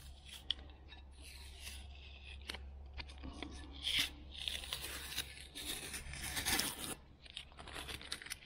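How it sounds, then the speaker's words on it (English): Masking tape peeled off a freshly painted motorcycle brake disc from a Kawasaki Vulcan 900, a close crackling tear with crinkling bursts and pauses over a low hum. "I'm just going to peel the tape off now"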